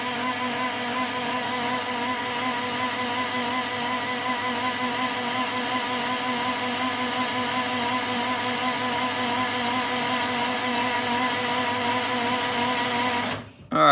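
A 1961 Triumph TR3A engine turns over steadily on a high-torque starter, a loud, even mechanical churn with a fast repeating pulse that runs unbroken for about thirteen seconds before cutting off abruptly.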